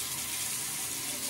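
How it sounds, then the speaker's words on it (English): Shaving gear rinsed under a running tap, a brief, close, steady hiss of water splashing with no talk. "And then I always rinse it underneath."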